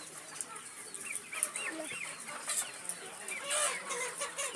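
Many chickens cluck and chatter together in an enclosed two-tier coop, overlapping calls continuing steadily at close range.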